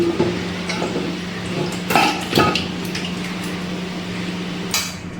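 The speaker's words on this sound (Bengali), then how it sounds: "এবার আমি রান্না করা মাংস এর মধ্যে দিয়ে দিচ্ছি।" Cooked chicken meat for biryani is tipped into a metal cooking pot, giving two or three close metallic clanks and scrapes over a steady low kitchen hum.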